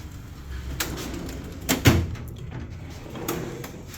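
A drawer on a tool box full of wrenches, pliers and screwdrivers slides open with a few short rattling clunks, one sharper knock in the middle, recorded close with no one talking.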